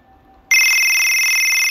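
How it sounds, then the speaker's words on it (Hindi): Custom name ringtone playing back on a phone, a loud, bright electronic ring that starts abruptly after a brief near-silence and holds steady to the end, heard alone. "इस प्ले पर क्लिक करके मैं आपको प्ले करके दिखाता हूँ कि ये रिंगटोन कैसा है"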